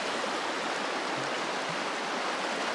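The Gila River, muddy and silty, flows steadily close by along an Arizona trail, a continuous rushing wash of water heard alone.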